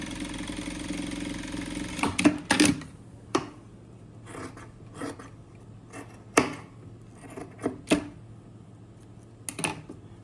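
Industrial sewing machine stitching a tracksuit pocket, with short bursts of stitching and clicks over a steady low motor hum, several brief runs spread across the clip.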